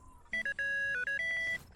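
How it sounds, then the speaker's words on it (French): A TikTok gift notification chimes as a short melodic run of bright electronic tones, clear and alone over a quiet background during a livestream gaming session. "Pourquoi il y a une sonnerie toutes les secondes? C'est les cadeaux sur TikTok."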